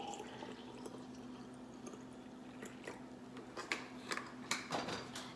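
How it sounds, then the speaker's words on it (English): Alkaline water being poured for a smoothie, a soft splashing trickle with small drips and gurgles that grows more active toward the end, faint and close. "And lastly, I add some water. And this is alkaline water."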